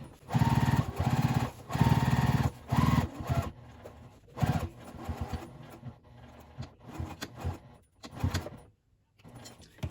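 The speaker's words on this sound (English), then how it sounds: "Okay, I'm going to sew the flap on." A sewing machine stitching a bag flap with a 1/4 inch seam, loud close rattling bursts of motor and needle running in several runs of a second or two, separated by brief pauses and quieter handling clicks.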